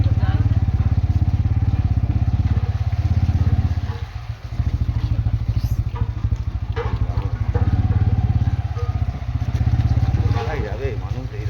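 A motorcycle engine labours along a muddy, rain-soaked road between Sonarpur and Subhash Gram, a loud, continuous close-up drone that dips briefly then resumes, with faint talk in the background.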